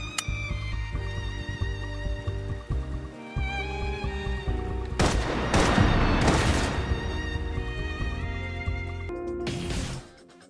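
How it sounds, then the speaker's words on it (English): Gunfire rings out in a video game battle scene, with booming shots and bursts of rapid fire over a sustained musical score, the firing densest in the middle and fading before the end. "Requesting full suppression gunfire."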